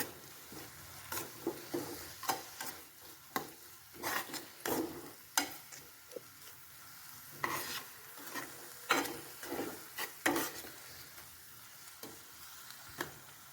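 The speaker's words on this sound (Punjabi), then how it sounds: "ਹੁਣ ਇਸ ਵਿੱਚ ਨਮਕ ਤੇ ਲਾਲ ਮਿਰਚ ਐਡ ਕਰਾਂਗੇ ਇਸ ਨੂੰ ਚੰਗੀ ਤਰ੍ਹਾਂ ਮਿਕਸ ਕਰਾਂਗੇ" A spoon scrapes and stirs softened tomatoes with salt and red chili in a pan, irregular rasping strokes over a faint sizzle, close and fairly quiet with no voice.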